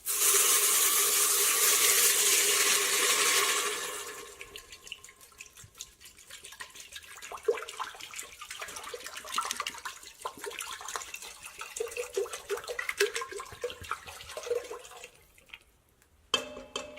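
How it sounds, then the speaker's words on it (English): Water pours steadily into a mutton biryani pot for a few seconds, then cuts off, leaving quieter drips, stirring and clinks of a utensil against the pot. "now let's just add the water."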